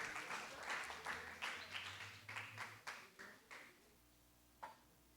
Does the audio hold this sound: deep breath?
no